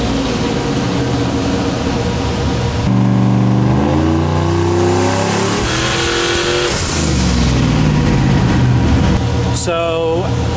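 A turbocharged Chevrolet Silverado engine run on a dyno under a Holley Terminator X tune, a loud continuous drone rising steadily in pitch through the pull, with voices talking over parts of it.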